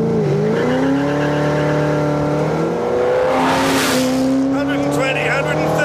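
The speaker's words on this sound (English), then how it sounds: "This thing spins the wheels in every gear." A car spins its wheels while accelerating hard, with a loud, rising engine roar and squealing tires close by as someone talks over it.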